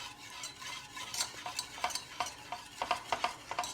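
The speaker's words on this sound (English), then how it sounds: "We'll get that brown sugar mixed in with our butter and our heavy whipping cream" Brown sugar, butter and heavy cream are stirred in a pan, with a quick rhythmic series of spoon scrapes and light clinks over a faint sizzle.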